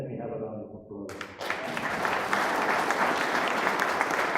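After a brief stretch of a voice, a lecture hall audience bursts into steady, dense applause that continues strongly to the end.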